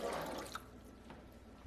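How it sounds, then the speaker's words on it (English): Two cups of water poured into a cooking pot with chicken and other ingredients, a short splashing gush that is loudest at the start and tapers into faint dribbles, heard close with no talking. "We're going to put in our 2 cups of water."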